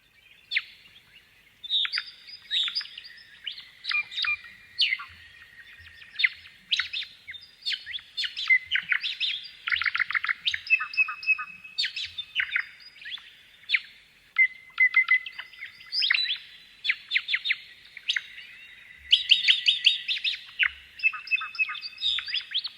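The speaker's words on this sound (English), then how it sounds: "to be in the outback in that half light before sunrise and to hear these birds do this is just one of the most magical things" Inland dry-country birds sing in the Australian outback before sunrise, a busy overlapping chorus of clear chirps, warbles and trills in close, rapid bursts with no other sound.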